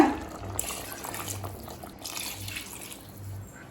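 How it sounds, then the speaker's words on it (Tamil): Water poured into a pot of Thalappakatti-style chicken biryani, a steady close splashing stream with broad hiss that swells and eases in waves over a low background hum. "இப்போ அடுத்தது 2 கப் தண்ணி சேர்த்துக்கலாங்க."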